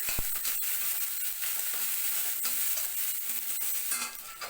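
Mustard seeds, urad dal, a dried chilli and onion sizzle in hot oil for a tempering, a close crackling fry with a few sharp pops and scrapes, no voices.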